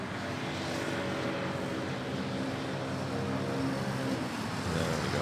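Philippine Air Force Airbus C-295 transport planes at Manila Airport, a steady distant engine rumble droning with no break, faint and continuous.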